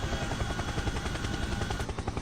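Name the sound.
helicopter flying in a flight-simulator video game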